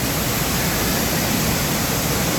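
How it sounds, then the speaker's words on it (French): Kabir Kouba waterfall in Québec roars in a steady, dense, loud rush of falling water, close and unbroken, with no voices. "il y a une vue sur vraiment le gros de la chute, on va dire, vraiment la chute Kabir Kouba"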